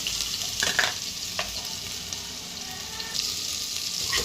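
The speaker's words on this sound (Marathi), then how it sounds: "लसूण आलं आणि जिरे हे आपण याचा तडका देऊन घेऊया" Garlic, ginger and cumin fry as a tempering in oil for a Khandeshi kanduri-style mutton curry, making a dense, close sizzle with occasional stirring clatters.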